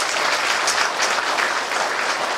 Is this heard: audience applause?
yes